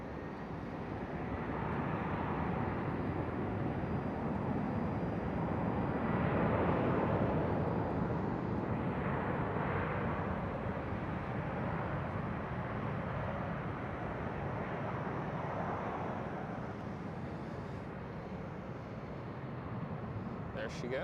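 A Delta Airlines airliner taxis at Amsterdam Schiphol Airport, its steady engine roar rising and falling over about twenty seconds in a broad, moderately distant wash without sharp events.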